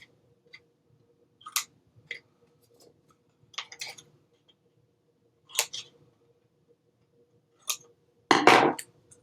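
Scissors snip out the corners of folded paper for a craft photo organizer: a handful of short, crisp cuts and clicks spaced apart over a quiet background, ending with a louder, longer rustle of paper.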